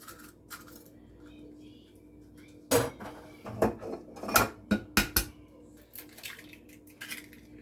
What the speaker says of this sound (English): first we're gonna break the egg